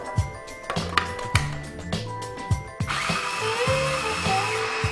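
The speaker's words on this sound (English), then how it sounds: "I'm going to use a cup of raw walnuts, put them in the food processor," Food processor briefly grinding a cup of raw walnuts into flour, with clicking and handling knocks at first, then a steady close whirring motor that runs for the last couple of seconds.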